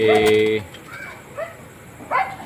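A stray pigeon at a bird loft gives a few short, close coos spaced about a second apart, with a voice talking briefly at the start.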